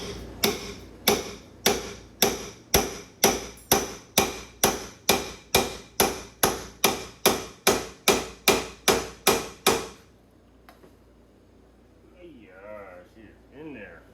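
Steady, forceful hammer blows drive a steering knuckle closed on an S550 Mustang drift build, about twenty loud evenly spaced metallic strikes in a row, then they stop and a faint voice follows.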